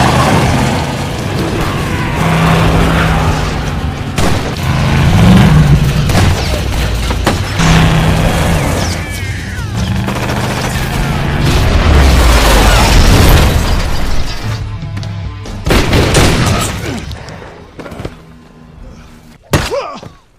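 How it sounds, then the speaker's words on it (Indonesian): Loud, sustained gunfire and booming blasts from a movie shootout. Rapid bursts and heavy impacts pile up continuously, then thin out into a few isolated bangs. "Dan terjadilah adegan tembak-tembakan di mana Milton harus tertembak beberapa kali"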